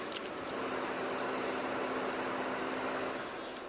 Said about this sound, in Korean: 이 정도의 엔진 소음 만나보실 수가 있는 차량입니다